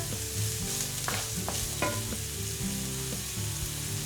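Onion, garlic and chili pepper frying in a pan, a steady close sizzle with a few sharp utensil scrapes and taps across it and no talking.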